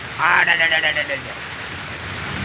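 Heavy monsoon rain pours in Anand, Gujarat, a steady close hiss filling the whole stretch, with a brief voice-like tone rising over it near the start.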